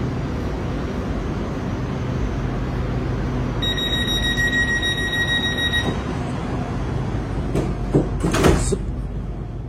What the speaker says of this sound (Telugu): డోర్లు అయితే ఓపెన్ అయినాయి మామ